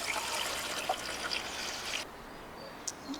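Ginger drink concentrate trickles through a filter, a faint, close, continuous thin dribble with small splashy drips scattered throughout and no talk.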